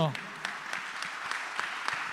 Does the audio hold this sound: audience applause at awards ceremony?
yes